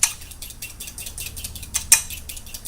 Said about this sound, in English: You could probably do this with an electric blender, but I'm just doing it with a fork.